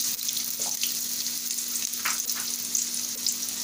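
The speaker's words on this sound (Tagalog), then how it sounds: "ipapan-fry din natin yung ating potato and carrot" Potato and carrot frying in fresh oil in a pan, a steady close sizzle and crackle with occasional brief stirring clinks, no voices.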